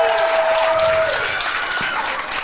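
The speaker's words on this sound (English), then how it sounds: "Dutchtown coaches clapping for Chapelle" Dutchtown coaches clap for an opposing team at the LHSAA girls team bowling finals. Dense, steady applause mixes with crowd noise throughout, with a brief whistle-like tone near the start.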